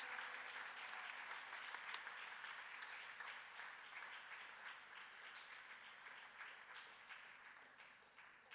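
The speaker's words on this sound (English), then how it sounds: "Let's give a big round of applause for Nitya Narasimhan, please." Sustained applause from an audience for Nitya Narasimhan at a live arangetram dance performance, a dense steady wash of many hands clapping, moderately distant and fading slightly toward the end.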